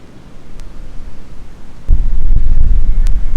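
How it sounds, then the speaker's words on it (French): Loud, blustery wind at a parking area in Motril, Spain, buffets the microphone, picking up sharply partway through and roaring steadily after that; no one speaks. "Il y a ce vent très fort"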